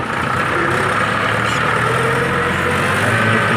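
A Ford 3600 tractor engine runs on a farm with a loud, steady, low drone close by. The engine holds an even pitch throughout, with no voices.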